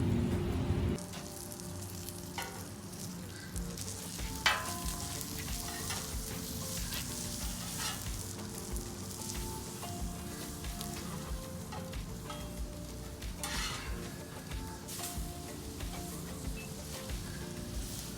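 Coffee-rubbed steak sizzling steadily in a hot pan, a dense continuous fry that sounds close and even, with a few small pops and clinks, and no voices.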